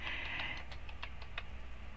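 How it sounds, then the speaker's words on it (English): Light typing on a keyboard, a handful of soft separate keystrokes ticking irregularly after a brief tonal hum fades, quiet and close. "And I'm typing this in."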